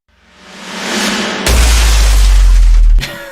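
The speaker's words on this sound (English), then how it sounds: "And the bass drops on that album are just so fucking stupidly loud" A heavy deathcore bass drop sample from a band's stems: a swelling noisy build, then a loud deep sub-bass boom with a crashing, glass-breaking texture for about a second and a half before cutting off.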